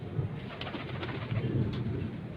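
A pigeon on a rooftop gives a few soft, low coos close by over quiet background hiss, with no talking.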